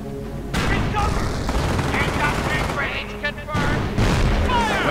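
Gunfire crackles in the strategy game Company of Heroes, dense bursts of rifle and machine-gun shots with booming impacts over a few seconds, while a voice talks over the battle.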